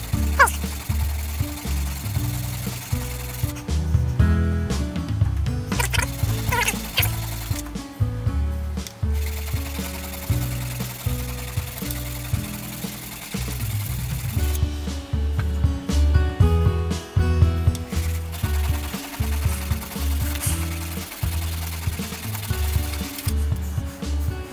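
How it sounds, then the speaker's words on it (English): A buffing wheel polishing a hand-sharpened tungsten carbide lathe tool, a continuous whirring rub with recurring rhythmic pulses and occasional scraping bursts, close and steady, no speech. "Finally take a buffing wheel to it"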